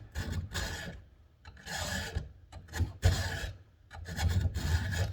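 The rakers of a chainsaw chain are filed by hand, in bursts of close, gritty rasping strokes with short pauses between them, and a few faint metallic clicks.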